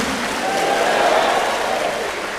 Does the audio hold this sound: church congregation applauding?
yes